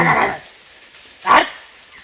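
A dog barks twice nearby at monkeys in the trees, one short loud bark at the start and another about a second later, with quiet between.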